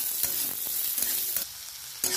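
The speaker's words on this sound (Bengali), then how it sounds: "পেঁয়াজ কুচিটা দিয়ে দেবো, ভালো করে নেড়ে চেড়ে হালকা করে ভেজে নেব" Chopped onion and chillies sizzle steadily in a hot pan, with brief scraping stirs breaking through the constant close frying hiss.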